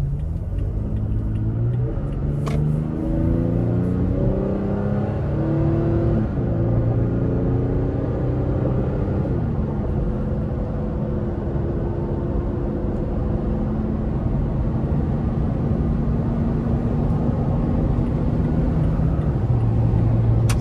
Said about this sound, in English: let's see how this accelerates getting on the interstate